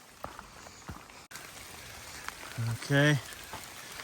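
Rain patters steadily on a forested Appalachian Trail hillside in spring, a soft continuous hiss broken by brief louder rustles near the end, with a voice speaking briefly over it.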